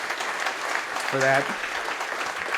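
Steady applause fills the room at a celebration of life, a broad wash of clapping from the gathered audience while a voice briefly speaks over it.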